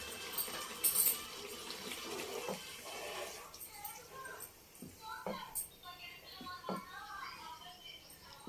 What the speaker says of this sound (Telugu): మీకు కొంచెం కావాలనుకుంటే ఇప్పుడు కొద్దిగా వాటర్ వేసుకోండి, కొంచెమే.